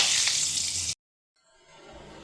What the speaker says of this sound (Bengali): সাদা তেল, তেলটা গরম হয়ে গেছে, এবার দেবো তেজপাতা, লবঙ্গ আর এলাচ